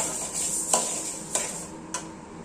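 Sorghum dry-roasts in a pan while a spoon scrapes and taps against the metal three times at even intervals over a faint, dry background rustle.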